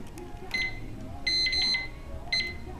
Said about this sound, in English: And set your timer.